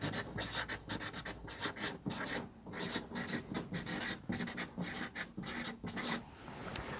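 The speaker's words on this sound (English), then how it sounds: "Let's write that down. I'll get a marker." Marker pen writing on a board during a physics lesson, a series of close, quiet squeaky scratching strokes with short pauses between them, heard alone.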